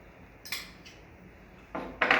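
A utensil scrapes and clinks against a bowl while dumpling dough of flour, black pepper, baking powder, salt and sugar is mixed, a few short bursts separated by quiet.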